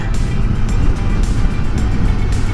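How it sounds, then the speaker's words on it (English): A motorcycle engine braking on steep grades and sharp curves of a mountain road, a steady loud low rumble with wind noise over it, continuous throughout. "Engine braking activated."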